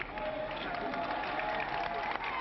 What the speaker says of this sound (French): Applaudissements modérés lorsque la voiture d'Édouard Balladur quitte Matignon